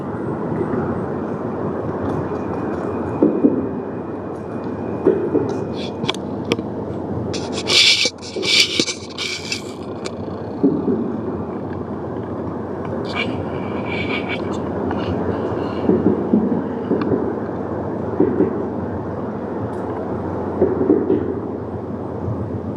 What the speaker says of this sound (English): in the meantime, we got a train